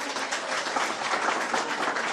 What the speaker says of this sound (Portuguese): salva de palmas para Johnny